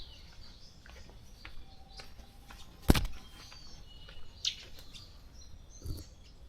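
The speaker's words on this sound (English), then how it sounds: "Many birds here." Scattered bird chirps and short calls sound from several directions in Sigiria Forest, Nairobi, Kenya, fairly faint, with a sudden sharp knock partway through.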